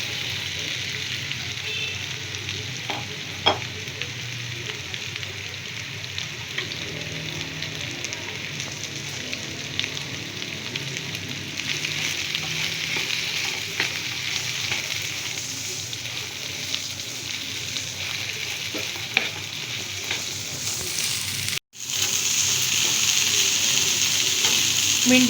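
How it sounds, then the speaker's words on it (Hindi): Okra (bhindi) frying in hot oil for bhindi masala, a steady dense sizzle with a few scattered pops that holds for the whole stretch and cuts out for a moment near the end, with no voices. "भिंडी जब तक फ्राई हो रही है"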